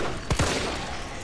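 Gunfire in the video game Resident Evil 3, with two quick sharp shots close together, loud against a steady game background.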